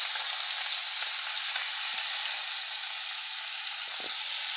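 Chopped onions fry in oil in a wok with a dense, even high hiss that holds steady throughout, with only a couple of faint knocks.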